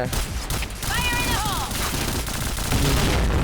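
Rapid bursts of gunfire from the G11, a new gun in the shooter game Point Blank, crackle loudly amid other game effects, with a descending electronic tone partway through.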